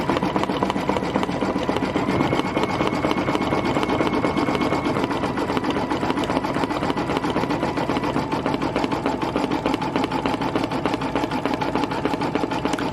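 An embroidery sewing machine stitches with red bobbin thread, giving a fast, even mechanical chatter that runs continuously, close and loud, with no talking.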